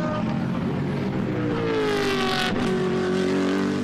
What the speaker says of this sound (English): Another great sounding car, the BMW Z4.